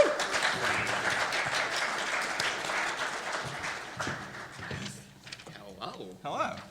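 At a GenCon 2019 live show, an audience claps and applauds warmly. The steady applause fades over a few seconds while voices begin speaking over the tail.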